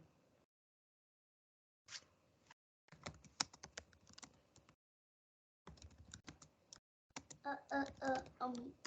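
Someone types on a computer keyboard in irregular bursts of quick clicking keystrokes, separated by silent pauses, close up and fairly soft, with brief faint voice-like sounds near the end.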